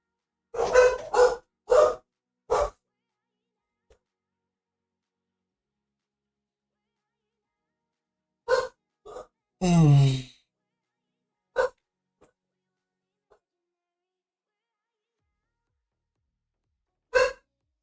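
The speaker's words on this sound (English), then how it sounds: "Can you hear the dogs barking?" Dogs bark from a distance in short, scattered bursts: several quick barks, then long quiet gaps, then a few isolated yips.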